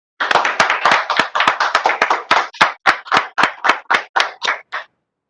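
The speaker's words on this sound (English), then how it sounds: "let's give a big round of applause for Mr. Manocha for this excellent presentation" About twenty crisp, separate hand claps ring out close and loud after a presentation by Ajit Manocha, quick at first and then spacing out and slowing before stopping.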